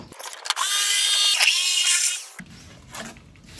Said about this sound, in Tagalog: So jigsaw day atong gamito no para ikat nato ato ang gitrace no para zero gyud.